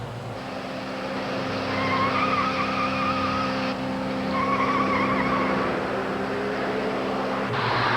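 A runaway car tears along a road at about 110 miles an hour, a loud, sustained engine roar with a whining, squeal-like tone that holds steady for several seconds.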